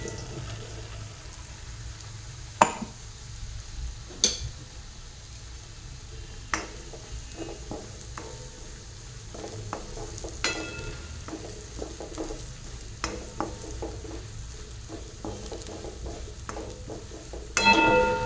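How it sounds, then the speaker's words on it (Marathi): Ground spice paste sautéing in hot oil for a spicy Nashik-style spring onion curry, a soft steady sizzle with occasional sharp clicks and scrapes of a spoon against the pan, close and fairly quiet, no voices. "आपण जे वाटण करून घेतले ते आपण तेलामध्ये थोडं परतून घेऊया।"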